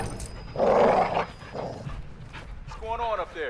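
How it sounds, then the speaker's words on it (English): Caged dog in Call of Duty: Modern Warfare II, a loud close bark followed by lower growls and yips, with a voice briefly in the mix. "Do you see the caged dog?"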